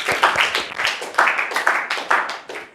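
A handful of people clap in a short, uneven burst, close by, with a few loud individual claps standing out.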